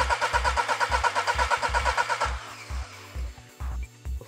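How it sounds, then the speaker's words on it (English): A car engine cranks over during a cylinder compression test with a digital pressure tester, giving a fast rhythmic starter whir for about two seconds, then slower intermittent thumps and pauses, close and loud. "and cranking again"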